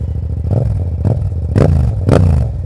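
Modified 2018 Yamaha MT-07 motorcycle exhaust beside a church, revved in short blips: a close, loud idling throb broken by three quick rising revs that snap back down, with no speech.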